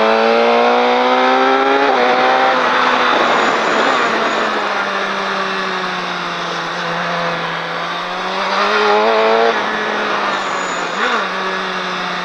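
A motorcycle engine roars loudly and continuously, its pitch rising and falling as it accelerates, brakes and shifts gears around a track.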